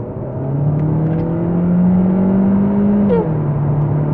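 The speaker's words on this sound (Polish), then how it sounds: "Normalnie pracująca benzynka." Petrol engine of a 2021 Cupra Leon ST plug-in hybrid (245 hp) running steadily with no artificial sound added, a smooth even hum that rises slightly mid-way and then settles, heard close and alone.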